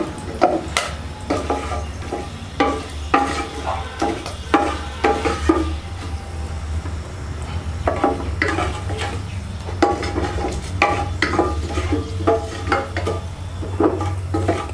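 Bay leaves, cinnamon, cloves and cardamom are stir-fried in a pan, with a spatula scraping and clacking in irregular strokes over a continuous low sizzle, close and fairly loud.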